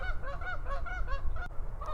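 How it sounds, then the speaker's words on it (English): Geese honk repeatedly at a pond, a cluster of nasal calls overlapping in quick succession against low background rumble, moderately near. "I don't know if you could hear the birds."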